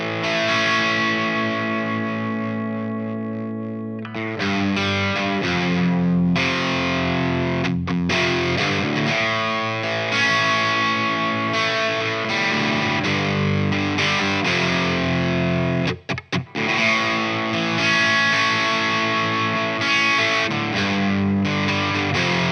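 Overdriven electric guitar through MOOER Hustle Drive and Fulltone OCD pedals set to low-pass with the tone raised, playing loud sustained distorted chords and riffs with a brief pause near the start and short gaps later.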